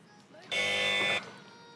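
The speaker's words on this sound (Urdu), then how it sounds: "جی بزر بجائی ہے" A quiz-show buzzer on a children's Ramzan competition blares once as a single steady electronic tone lasting under a second, loud and harmonic-rich, then cuts off, leaving faint room noise.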